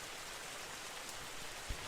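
Steady pouring rain hisses evenly and densely throughout, with a brief low thump near the end and no voices.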